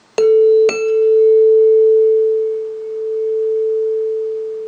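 Two struck tones at nearly the same pitch ring together, their combined sound slowly swelling and fading in a wobbling beat as it sustains.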